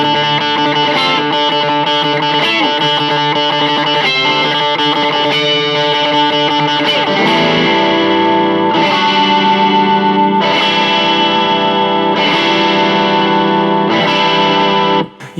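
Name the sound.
Gibson ES electric guitar played with volume rolled back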